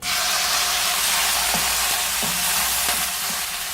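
Chicken pieces frying in about two tablespoons of hot oil in a pan, a steady loud broadband sizzle throughout with a few soft clinks and stirring bumps, no voices.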